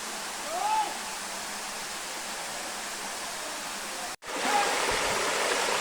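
Madhabkunda waterfall pours steadily in a broad, constant rush of falling water, close and loud, with a brief cut midway and faint voices in the background.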